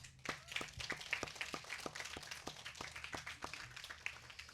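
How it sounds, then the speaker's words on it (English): Applause from an audience at a summer appreciation luncheon: quiet, fairly sparse claps in an even rhythm, heard from a short distance with no talk over them. "please give yourselves a round of applause"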